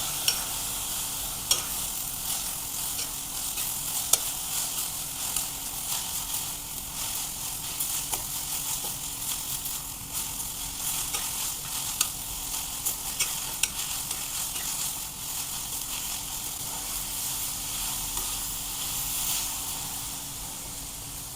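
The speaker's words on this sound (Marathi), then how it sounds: "कोबी यामध्ये छान असा मिसळून घ्यायचा।" Shredded cabbage being stirred into fried spices in a pan for patta gobi bhaji, a steady low sizzle and hiss with faint intermittent scrapes and clicks, close and even, no voices.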